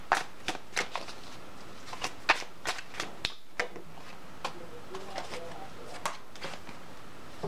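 A large, slippery tarot deck is shuffled in a steady run of sharp card slaps and flicks, close up and spaced irregularly over several seconds, with no one talking.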